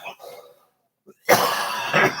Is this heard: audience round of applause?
no